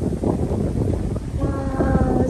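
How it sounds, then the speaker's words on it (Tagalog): Breeze blowing through a countryside forest gusts steadily against the microphone, a continuous rushing wind, with a faint tonal hum rising toward the end. "sarap nagsimoy ng hangin."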